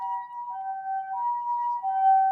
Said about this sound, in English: You hear that? The sirens.